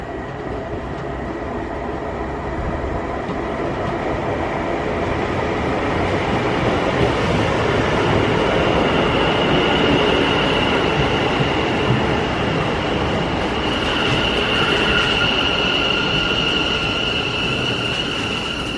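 A GWR HST passenger train runs at speed, heard from on board as a loud continuous rumble and roar with a steady wheel drone, a rising whine appearing toward the end.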